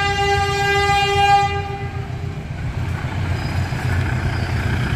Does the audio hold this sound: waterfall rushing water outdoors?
no